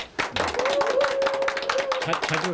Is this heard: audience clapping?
yes